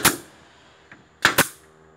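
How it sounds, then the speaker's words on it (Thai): A staple gun fires into a soffit batten panel while fitting a 45-degree mitred eave corner: one sharp snap, a faint tap, then two quick loud shots close together, with no talking. "ยิงแม็กไปเลย"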